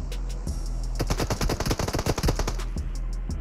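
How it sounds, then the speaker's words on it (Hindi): Rapid bursts of automatic gunfire from a buggy in a mobile battle royale shooter game rattle off in a dense volley of about a dozen close, sharp shots. "अब ये बग्गी रुक के मेरे पे लेती है शॉट्स"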